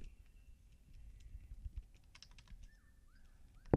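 Keyboard typing sounds in a virtual dating video game, with quiet, scattered key clicks and short electronic tones near the end, faint and without speech.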